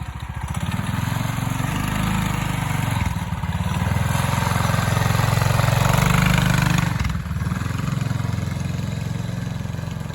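A bike with a Harbor Freight four-stroke engine swapped in runs at a slow cruise, its loud close engine drone steady and continuous with a brief dip in revs twice, and no voices.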